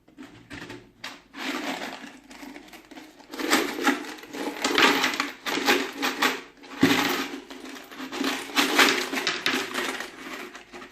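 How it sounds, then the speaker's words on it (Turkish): Coins from an opened piggy bank poured and shaken out: irregular bursts of metallic clinking and rattling, close and fairly loud, rising and falling in waves with brief pauses between, no speech. "Hadi içinden paraları çıkartalım."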